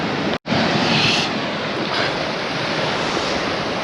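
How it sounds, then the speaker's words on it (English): Steady broadband roar of sea swell breaking at Ogmore Deeps on a still, windless day, a loud continuous wash with a brief dropout near the start and no voices. "there's virtually no wind, but there is always a swell"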